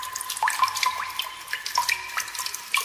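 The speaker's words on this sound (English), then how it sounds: "So I'm going to squeeze the sponge," Water squeezed out of a wet sponge, trickling and splashing into a container as scattered drips and gurgles run steadily for about three seconds, fairly close and at moderate loudness.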